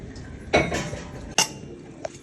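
Ground urad dal flour from a mixie tipped into a metal vessel, heard as a few short clinking, scraping bursts of metal against metal, fairly close, with quiet gaps between them and no talking.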